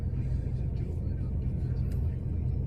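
A car backing into a space close behind a person, heard as a steady low engine rumble throughout with no clear change in pitch.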